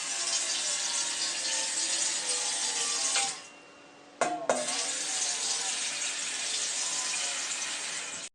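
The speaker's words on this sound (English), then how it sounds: "Now fill up the steamer with water." Water from a tap rushes steadily into a small steamer for rice cakes. The flow pauses briefly, a clunk follows, and then the close, continuous stream resumes.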